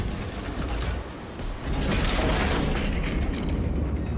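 Heavy mechanical loading of a virus bomb payload into an orbital launcher in Space Marine 2, a dense grinding, clanking rumble with gear-like ratcheting that dips briefly before swelling back loud and steady.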